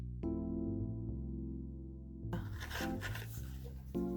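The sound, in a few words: poking holes in a crowler can with a grout scraper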